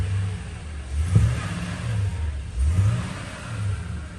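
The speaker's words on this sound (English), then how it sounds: "So I'm revving it up a little bit guys" A Toyota Tundra engine during a coolant bleeding procedure, revved gently twice in low, rumbling swells that rise and fall over a steady idle, close by.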